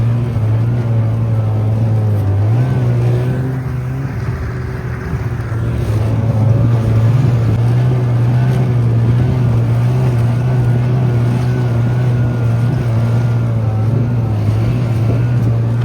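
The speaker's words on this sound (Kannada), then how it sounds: "ಇದೆ ನೋಡಿ ಹಾಫ್ ಪಾಯಿಂಟ್ವರೆಗೂ ಕರ್ಕೊಂಡು ಹೋಗೋ ಸ್ನೋ ಬೈಕ್." A snow bike engine runs steadily at Sonamarg in snowy Kashmir, a continuous low droning hum that holds near and loud throughout, with wind noise over it and no talk.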